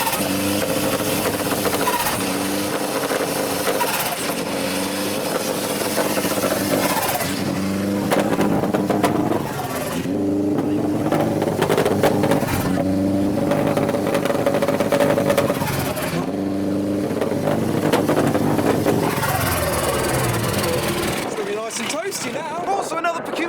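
A boosted Toyota Yaris engine revs repeatedly at a JDM car meet, rising and falling in steady pulses against a constant crowd and traffic hum, with people talking throughout.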